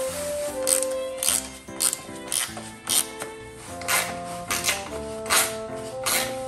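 A 10 mm screw is worked loose with a clicking ratchet on the air cleaner box of a roughly 30-year-old Honda Little Cub, giving rapid close mechanical clicks in uneven bursts over a tonal background.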